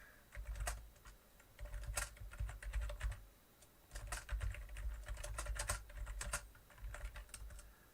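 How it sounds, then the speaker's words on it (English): Loud computer keyboard typing during a Skytear Clash tabletop game session, a steady run of sharp clattering keystrokes in bursts, close and prominent with no talking. "Again, apologize for my super loud keyboard."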